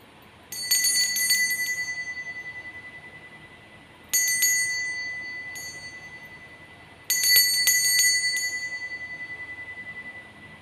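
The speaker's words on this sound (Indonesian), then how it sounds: "kita akan melanjutkan dengan lonceng berbunyi" Three separate rings of a bright metal bell, each struck in a quick flurry of strokes and left to fade slowly before the next, in an otherwise quiet room.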